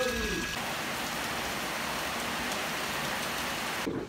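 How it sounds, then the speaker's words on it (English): Steady rain falling outdoors on Nusa Penida, Bali, a continuous even hiss of drops that holds at moderate loudness, with a brief tonal sound at the start and no talking. "Well, we've had some rain"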